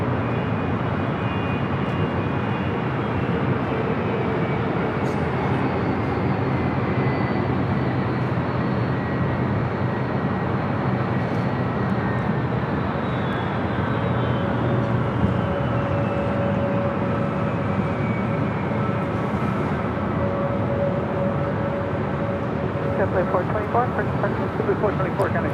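Boeing airliner on runway 24 left at LAX, a steady broad jet engine roar that holds throughout with a faint whining tone drifting down, voices talking over it now and then.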